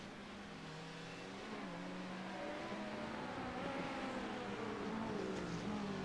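Sports prototype race cars, including LMP2 entries, rolling down pit road in a sim racing league event, a steady close engine drone holding level with a slight rise in pitch toward the end, no voices.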